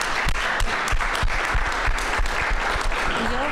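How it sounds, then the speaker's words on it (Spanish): Audience applause at a Spanish-language expert forum, a steady wash of many hands clapping with some sharp individual claps standing out, filling the whole stretch at moderate loudness. "vamos a darte un aplauso."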